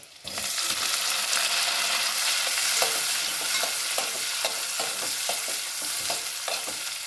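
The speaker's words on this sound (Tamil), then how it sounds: "அதுக்கடுத்து கட் பண்ணி வச்சுருக்க தக்காளியை சேர்த்துக்கிறப்ப" Chopped tomatoes sauté in hot oil in a pan for sambar, giving a steady, close sizzle with soft, regular scrapes as a spoon stirs them throughout.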